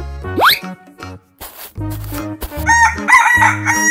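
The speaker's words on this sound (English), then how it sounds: "Chicken." A cartoon rooster crows loudly once near the start, followed by clucking and springy sound effects over upbeat children's music in an animal animation.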